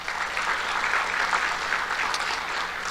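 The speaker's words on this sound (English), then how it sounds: "let's give the family and friends a round of applause" An audience at the Miss and Jr. Miss Cherokee pageant gives family and friends a round of applause. The clapping is steady and even throughout, heard from a moderate distance.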